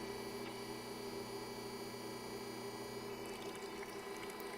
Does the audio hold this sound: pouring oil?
yes